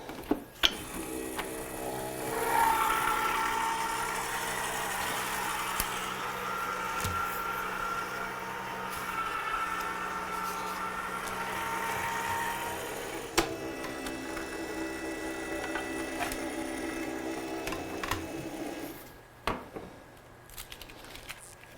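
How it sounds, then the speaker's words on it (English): A die-cutting machine runs steadily as stamped Christmas artwork is fed through, a continuous mechanical whirring hum that holds for most of the run, with faint clicks near the start and end before it stops. "all I'm going to do is run through this through the machine, and this will give me a lovely detailed outline around my artwork."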